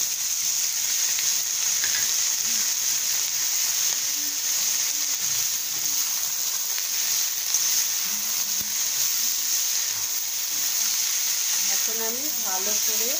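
Chopped potato pieces fry with salt in a pan, giving a steady, even hiss as they are stirred now and then, with a person speaking softly over the sizzle.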